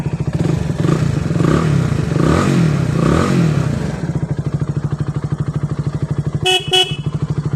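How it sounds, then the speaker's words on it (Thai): Horn of a Honda CBR 150i motorcycle sounds in two short, loud toots near the end, following a steady close idling engine rumble with some revving early on. "ภูมิใจกับเสียงแตรมากครับ"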